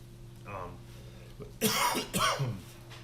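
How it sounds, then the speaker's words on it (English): A few harsh coughs close to the microphone, one short cough followed by a louder burst of two, over quiet background. "Sorry for the coughing, guys."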